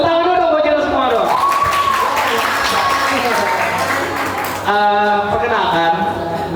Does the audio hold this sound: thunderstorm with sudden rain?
no